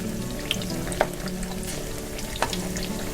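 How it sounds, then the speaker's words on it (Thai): Thai pork roll (moo yor) slices sizzle and crackle in hot oil, a steady close frying hiss with a few sharp pops and utensil taps, no voices. "เราก็แค่ทอดให้ร้อนแล้วก็ ให้กรอบให้นุ่มเท่านั้นเอง"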